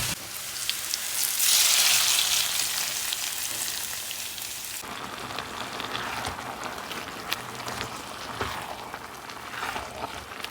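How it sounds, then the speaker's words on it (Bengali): Vegetable dal frying in a pan gives a steady, close sizzle that swells loudest near the start and then settles into a constant crackling hiss, with no talking. "একটু ভাজা হবে।"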